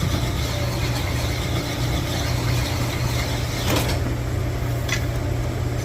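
Honing a connecting rod with a full stone, a continuous grinding, whirring machine drone with a faint scraping rattle, steady and close, with a couple of brief clicks near the end.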